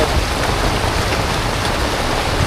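Steady rain pours down over an outdoor market selling cheap secondhand bicycles and bike parts, a constant broadband hiss with occasional louder drops, no talk.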